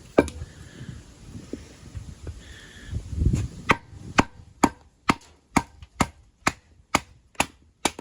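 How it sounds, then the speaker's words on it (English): Eafengrow EF148 fixed blade knife being batoned into wood, a regular series of sharp knocks, about a dozen evenly spaced strikes after some rustling and handling, close and loud. "I was just trying to do some light batoning, not punish the knife."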